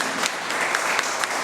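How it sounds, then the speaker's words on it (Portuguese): Worshippers in a church service give a brief burst of applause, a thick wash of many hands clapping at once, sustained and fairly loud with a few sharper claps standing out. "Vamos aplaudir ao Senhor Jesus."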